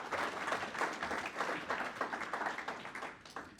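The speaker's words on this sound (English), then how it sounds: "Round of applause for Rajan." Steady applause from an audience at a university startup pitch event, a dense wash of many hands clapping evenly throughout, moderately distant and with no talk.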